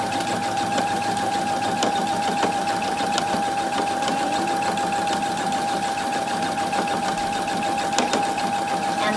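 A sewing machine runs steadily while stitching fabric for a decorative pillow, a continuous close mechanical whir with a constant pitch, alone without any talk.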